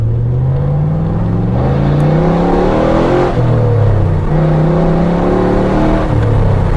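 A 4th gen Camaro Z28 pulls hard down a road, its engine note climbing through the revs, dropping at a gear change, then rising again. The sound is loud and close, as heard from inside the car.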